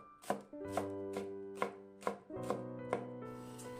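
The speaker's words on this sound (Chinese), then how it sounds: "再准备一把洗干的韭菜，给它切碎" Knife chopping washed chives on a cutting board for spinach and glass noodle pie filling, seven or eight sharp, close strikes at an even pace with ringing tones between them.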